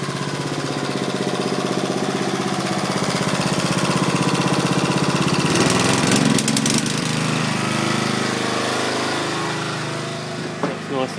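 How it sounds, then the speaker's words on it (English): A generator runs steadily to power a hydraulic pipe bender conversion kit, its loud, continuous engine drone throttling up to full power, with a brief clattering burst midway and no talking. "Now this is a generator powered kit, as you can probably hear in the background."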